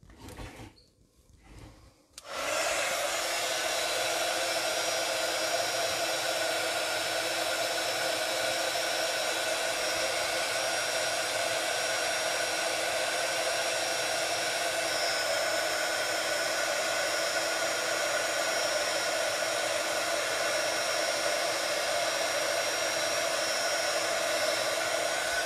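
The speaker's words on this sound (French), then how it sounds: "je vais vous casser un tout petit peu les oreilles, le temps de chauffer mon étiquette. Alors j'attrape le pistolet." A heat gun warms a cardstock label, starting after a few faint clicks and then roaring in a loud, steady blowing hiss that holds unbroken to the end.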